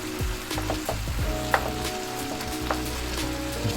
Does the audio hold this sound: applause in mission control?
no